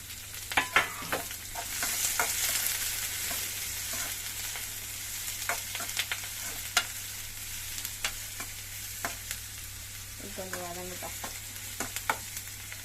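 Curry leaves sauté in a pan, producing an even frying hiss with scattered stir clicks and scrapes, close by, plus a brief tonal sound near the end and no talking.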